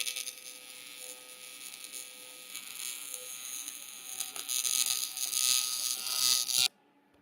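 MIG welding on aluminum, filling a quarter-inch gap in .065 tube, makes a steady, close crackling buzz that grows louder for about seven seconds and then cuts off abruptly.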